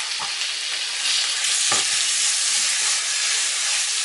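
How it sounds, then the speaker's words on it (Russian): Chicken breast fries with grated carrot and other vegetables in a pan, giving a loud, dense, continuous sizzle with brief stirring scrapes underneath. "Куриную грудку с овощами буду обжаривать где-то около 10 минут."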